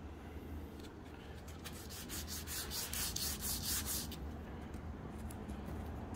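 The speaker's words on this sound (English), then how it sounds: "you can move on to your sandpaper, and I will use a 150 grit." Close, soft rasping strokes of 150 grit sandpaper rubbing back and forth across a ski base, building in intensity midway and then easing off, with no voices.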